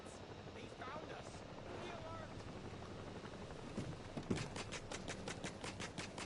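A helicopter in the video game Ghost Recon Breakpoint makes a steady rotor thrum that turns into clear, rhythmic chopping toward the end, under a player talking.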